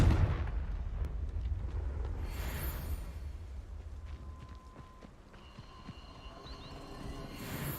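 A Confringo spell explosion in a video game opens with a heavy low boom that decays into a long rumbling tail, followed by faint crackles and soft tonal game effects as it fades.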